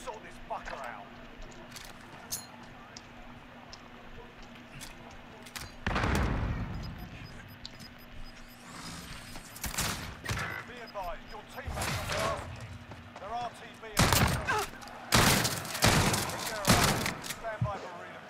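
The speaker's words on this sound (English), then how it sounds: "But this is a Dookie shotgun, bro." Shotgun blasts in a Warzone gulag fight ring out as a handful of loud, sharp bursts, sparse early then clustered near the end, with game ambience and voices chatting over the action.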